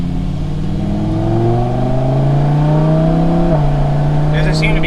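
Lamborghini Huracan engine pulling hard on a highway drive, a loud rising drone climbing steadily in pitch, dropping briefly at a gear change before climbing again.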